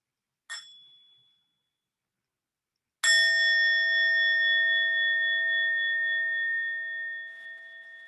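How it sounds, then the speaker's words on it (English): A meditation bell rings once, clear and ringing with a long sustain that slowly fades in a quiet room, after a faint brief tap a few seconds earlier. "And we'll begin with one sound of the bell."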